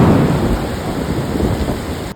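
Steady rain with a rumble of thunder, heard loud and continuous, like a downpour during a storm flooding the city of Surat.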